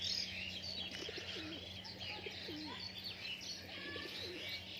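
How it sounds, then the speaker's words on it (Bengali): Beldanga pigeons from Murshidabad coo softly in a loft, several low rolling coos repeating alongside faint chirps and a light steady hum in the background. "সবগুলো সব মুর্শিদাবাদের বেলডাঙ্গা পায়রা"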